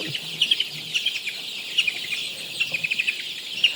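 Nineteen-day-old Sonali chickens chirp in a steady run of short, high, bird-like peeps, close and clear with no talking.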